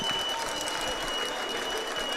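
Applause and cheering from the crowd fill a high school boys' basketball game between Kellogg and Wallace, a dense, steady clatter of clapping that carries through the gym for the whole moment.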